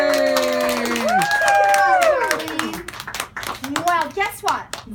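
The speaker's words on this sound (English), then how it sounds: "Where's my big round of applause?" Children and adults at a children's book reading in a Barnes & Noble store in Boston, clapping and cheering in a lively burst with excited kids' voices over it, the applause breaking into scattered claps toward the end.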